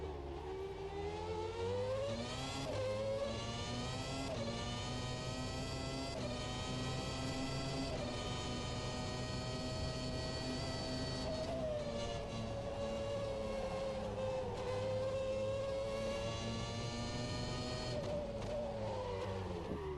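Race car in the rFactor 2 driving simulator, a continuous high engine whine rising and falling through gear changes and corners, loud and steady with no gaps, with tyre slides through medium- and low-speed corners.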